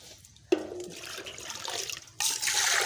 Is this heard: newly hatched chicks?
no